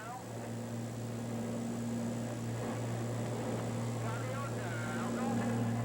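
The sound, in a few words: Twin Otter aircraft landing on jungle airstrip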